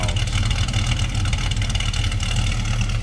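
The engine of a 1969 Chevrolet Chevelle Convertible runs steadily, a loud, continuous low rumble with a rapid throbbing pulse and no voices over it.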